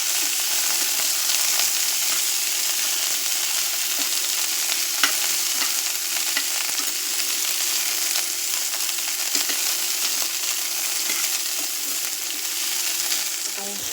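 Cauliflower pieces fry in hot oil for a spicy pickle, giving a loud, steady sizzle that runs unbroken throughout, with occasional faint stirring scrapes and no voices.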